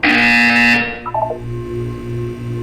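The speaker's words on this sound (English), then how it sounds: "You will hear a buzzer." A harsh electronic buzzer blares in the video game Portal, one loud sustained tone that cuts off abruptly, followed by a soft low mechanical hum.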